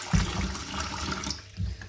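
Water from freshly washed rice is poured off, a soft, faint splash and trickle with two small gushes at the start and near the end, heard alone.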